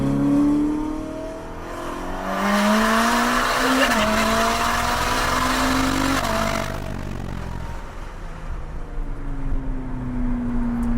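A Ferrari SF90 Hybrid engine is held near 4000 RPM in manual mode, a close, loud revving drone whose pitch rises and falls, swelling midway and then easing off, with a person speaking over it.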